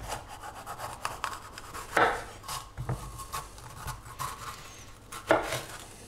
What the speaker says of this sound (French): On va d'abord le couper en lanières